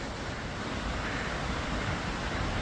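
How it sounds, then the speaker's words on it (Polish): Strong wind roars against the microphone in a constant, loud rushing blast with no pauses, recorded during a bike ride near Bad Belzig, Germany. "Zobaczcie w takim razie jaki wiatr jest."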